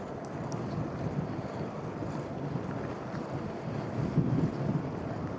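Strong wind at Gulf State Park roars steadily across the microphone, producing a dense, continuous buffeting rumble with no voices.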